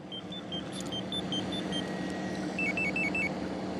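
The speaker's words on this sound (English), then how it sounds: "The alarm just went off on my truck there." A truck's alarm chirps in a steady repeating series of electronic beeps, then switches to a faster two-tone warble, sounding at an outdoor rally over a constant background hum of traffic and crowd.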